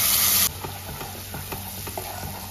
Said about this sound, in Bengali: এবার ফোড়নটা একটু নাড়াচাড়া করে নেব